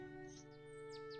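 Carolina chickadee call in the Wingspan digital board game: a few faint, high, quick chirps and downward-sweeping whistles over a steady tonal music bed, with no talk.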